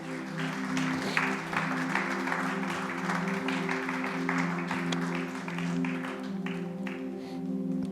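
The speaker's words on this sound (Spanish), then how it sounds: "Den un aplauso al Señor." Church congregation applauding during a worship service, a sustained patter of clapping at moderate distance over a steady musical drone, running for several seconds.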